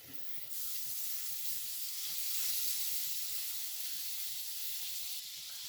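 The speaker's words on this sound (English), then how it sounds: "letting it sizzle." About a tablespoon of butter sizzles steadily in a pan used for making a paneer sauce, a continuous bright frying hiss that starts after a brief quieter moment and holds evenly throughout with no talking.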